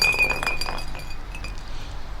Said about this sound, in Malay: Secara tiba-tiba ada bunyi botol kaca bergolek dari dapur.